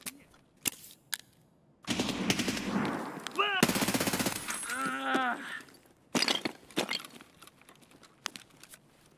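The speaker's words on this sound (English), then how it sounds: "They're shooting me before they even peek." Bursts of automatic gunfire and single cracking shots ring out in the video game Escape From Tarkov, sharp and fairly close, clustered in rapid volleys with short pauses between them.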